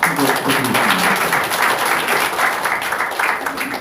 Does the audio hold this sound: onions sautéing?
no